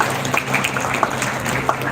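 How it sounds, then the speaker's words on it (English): An audience applauds graduating engineers in a brief, busy wash of clapping with a low steady hum underneath. "I think they need a great round of applause."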